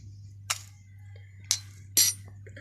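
A spoon of white sugar tipped into a small container for a homemade pink lip scrub, giving three sharp clinks of spoon against the container over a low steady hum, close and otherwise quiet.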